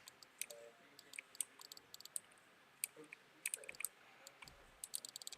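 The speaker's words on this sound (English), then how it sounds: "I'm clicking it and it does nothing" Sharp, sparse clicks of a computer mouse button during a twin-stick PC game, irregular single and double clicks, close and fairly quiet over a faint hiss, no talk.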